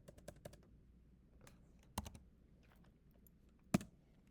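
A spreadsheet formula is typed on a computer keyboard, giving quiet, close clicks of separate keystrokes in short irregular bursts with a few sharper taps between quiet stretches.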